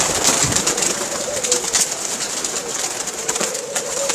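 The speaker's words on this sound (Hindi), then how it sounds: "नसीम मीर साहब के कबूतर हम देख रहे हैं जी" Pigeons coo steadily in a loft of fancy breeding birds, the soft rolling calls repeating close by against constant background hiss, with a little faint human voice underneath.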